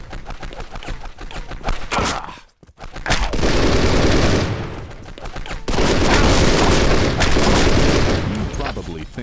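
Loud, dense bursts of automatic gunfire and booming rocket launcher blasts in an action video game, sustained for several seconds with a brief silent gap, close and heavy, with a voice talking amid the chaos.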